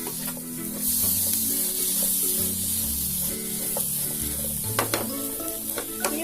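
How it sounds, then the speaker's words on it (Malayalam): A spicy Kerala cherry pickle mixture with vinegar is stirred in a pan, soft scraping strokes over a faint sizzle, with a few sharp clicks near the end. "നന്നായിട്ട് ഇളക്കി കൊടുക്കാം."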